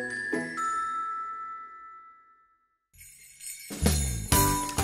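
A small handbell rings for Christmas charity donations outside a retail store, a few bright tinkling strikes that ring out and decay to silence, then a louder burst of jingling and clatter at the end.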